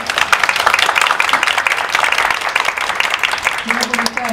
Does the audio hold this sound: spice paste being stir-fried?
no